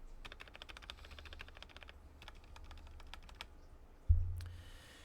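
Quick bursts of keystrokes on a stock GMMK2 96% mechanical keyboard, two rapid runs of clacks separated by a short pause, close and soft, ending in a single louder thump.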